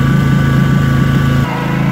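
A lawn mower engine runs loud and close while cutting wet, muddy grass, a steady pulsing drone with a slight drop in load near the end and no voices.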